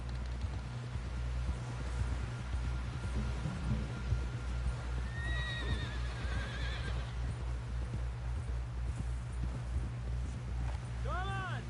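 In the video game Red Dead Redemption, a horse whinnies twice over a steady rhythmic clip-clop of hooves and a low rumbling drone, with voices talking throughout.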